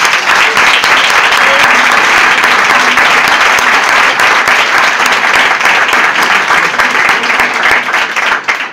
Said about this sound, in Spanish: El aplauso más fuerte, sin duda, es para vosotros